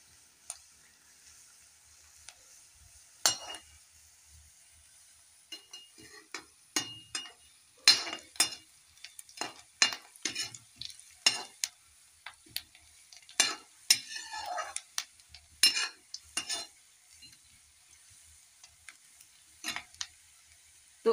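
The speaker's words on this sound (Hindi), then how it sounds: "ये हमारा प्याज यहाँ पे थोड़ा थोड़ा भूनना शुरू हो चुका है और ये डाल दिया हमने इसमें साबुत जीरा" Onions and whole cumin seeds with dried fenugreek leaves sizzle steadily in a hot pan while a spoon stirs and scrapes in irregular bursts, close up, with no talking.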